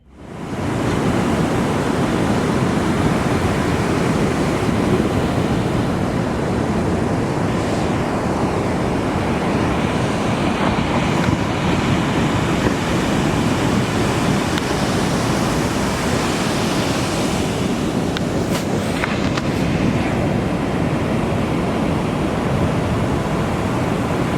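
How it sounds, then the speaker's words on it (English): Ocean surf at El Porto in Los Angeles breaks in a steady, loud, continuous roar of churning whitewater with wind across the microphone and no voices. "That's a fun wave, Nick."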